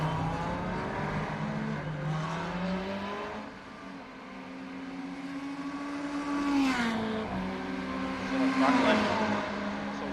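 Ferrari 488 race car engine at full throttle in iRacing, a steady loud drone whose pitch climbs and shifts through gear changes, with brief dips and a brighter surge near the end.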